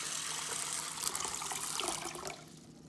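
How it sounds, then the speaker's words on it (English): Water pours from a tap into a pot for making hominy, a steady close splashing rush that cuts off near the end. "add water and stir it up"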